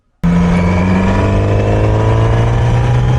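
Kawasaki Z900RS SE motorcycle engine starting abruptly and then holding a loud, steady high rev with strong engine harmonics, close up and with no voices.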